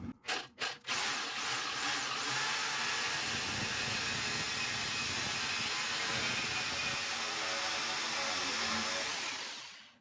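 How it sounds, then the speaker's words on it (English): Cutting out a section of exhaust pipe on a Hyundai Santa Fe at an old repair, heard as a few quick tool starts followed by a long, steady, close grinding whine that holds until it tapers off at the end. "I think I'm gonna go ahead and cut right here where this pre-existing repair is already."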